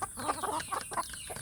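Village chickens (ayam kampung) kept as egg layers cluck in a quick burst of several close, choppy calls, alone without talk.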